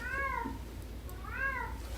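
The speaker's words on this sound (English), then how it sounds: "That cat is loving something down there." A cat meows twice, each call a drawn-out, rising and falling cry about a second apart, heard clearly over a low steady background hum.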